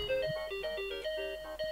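A phone ringtone plays a bright, repeating electronic melody of clear tonal notes, close and steady for the whole moment with no talking over it.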